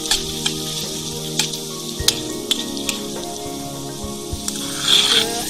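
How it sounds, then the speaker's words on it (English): Fenugreek leaves and seeds frying in oil for homemade hair oil, a soft continuous sizzle with scattered crackles and pops, plus a faint hum underneath and a brief louder hiss near the end. "Let the leaves and the seeds fry nicely, so the leaves and the seed"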